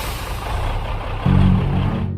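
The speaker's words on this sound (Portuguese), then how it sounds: "ela escutou o caminhão chegando" A heavy vehicle engine rumbles steadily, then grows louder and deeper partway through as a truck pulls in close, before the sound cuts off abruptly.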